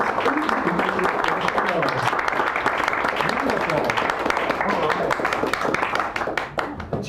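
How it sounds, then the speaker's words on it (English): A café audience at a San Francisco poetry night gives a dense, enthusiastic round of applause for a poet coming up, close and sustained, easing slightly near the end, with voices mixed in. "bring her up with a nice, big, arousing round of applause"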